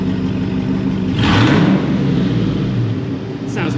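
A car engine revved in a garage after a GM 6L90 transmission swap, a close, loud mid-pitched rev that swells, holds and eases back to a steady idle.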